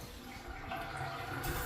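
A shower in a house under inspection runs with weak flow, a soft, thin hiss of water that brightens slightly near the end of a brief moment.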